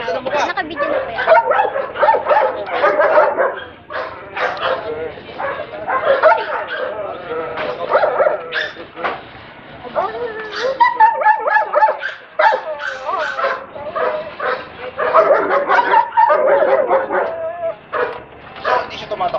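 A dog barks and yips repeatedly at a protection-dog pet get-together, the short barks mixed under near-constant nearby talking.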